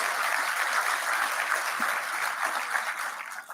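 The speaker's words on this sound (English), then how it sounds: "You can give her an applause." A seated audience at a basic education sector conference claps for a woman being honoured, a dense, even patter of many hands held at a moderate, slightly distant level before tapering at the end.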